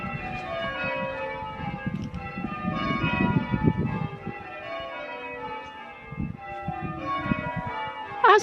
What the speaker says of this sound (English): Now I'm going to let you enjoy the sound of the bells.